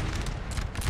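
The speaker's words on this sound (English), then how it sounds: "Nice artillery hit." Artillery shell impacts in the Napoleonic-era strategy game Napoleon: Total War, heard as a dense, sustained rumble of booms and battlefield gunfire filling the whole moment without pause, with no voices.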